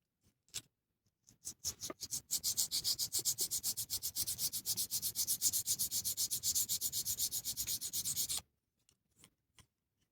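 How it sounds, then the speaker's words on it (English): A press-on nail being filed down gives a rapid, even run of close rasping strokes for about six seconds, framed by a few isolated scratches before and after. "I'm going to start by filing this down."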